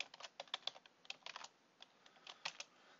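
Computer keyboard keys clatter in quick irregular bursts of clicks while code is typed, close and fairly quiet, with no one speaking.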